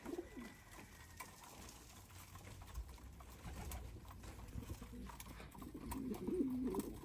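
Soft, low pigeon cooing, one brief coo near the start and a longer run of coos toward the end, over a steady background hum.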